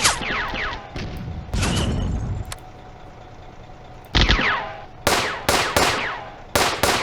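Gunfire from a WW2 real-time strategy game: several loud, sharp bursts of shots and impacts, with long gaps of quieter battlefield rumble between them and a rapid run of bursts near the end.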